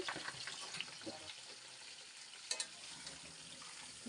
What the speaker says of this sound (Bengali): আলুর দমে আলুটা এইভাবে ভাজা নিতে হবে